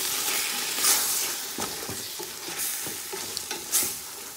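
Rice being stir-fried in a pan with a mixed Chinese spice blend for turkey fried rice, a steady scraping stir with soft sizzling and a few louder spatula knocks, close by, no voices.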